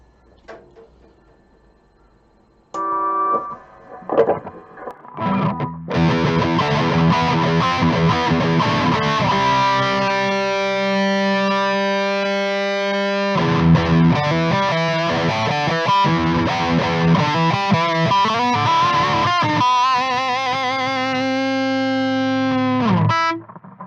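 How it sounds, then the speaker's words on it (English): Loud, heavily overdriven electric guitar through a Kokko FOD3 overdrive pedal (Tube Screamer clone) and amp, playing sustained chords and riffs, thick and distorted, continuing for about twenty seconds after a brief quiet start. "that wasn't the dry signal, that was the amp with this pedal"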